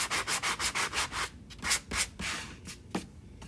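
Close rasping strokes of a sanding block, quick and regular at first, then slower and more uneven, with no talking.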